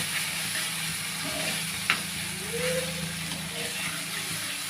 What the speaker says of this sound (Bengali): এই দেখো এরকম ভেজে ভেজে আমি কষিয়ে নেব মাখা মাখা করে